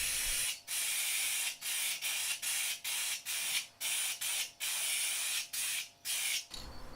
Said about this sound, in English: this is just normal acrylic clear coat that you can get from any kind of hardware store